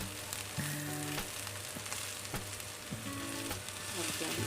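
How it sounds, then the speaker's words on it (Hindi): Capsicum sautés in a hot pan for a pasta dish, giving a constant crackling sizzle with bursts of clatter and scraping from stirring, close and fairly loud with no talk. "फिर इसमें जाएगी शिमला मिर्च, कैप्सिकम। इनको बस हमने सोते करना है"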